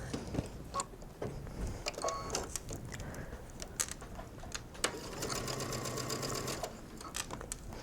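A sewing machine stitches mesh fabric casing nearby in quiet, rapid mechanical bursts, its needle ticking in fast rhythm with brief pauses between runs and no one talking.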